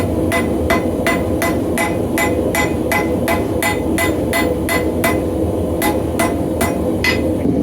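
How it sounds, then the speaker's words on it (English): A hammer lightly taps a hot railroad spike billet during san mai forge welding for a saw-blade knife. Crisp, evenly spaced metallic strikes repeat about seventeen times over a constant loud roar. "we're just gonna lightly tap on this a couple times"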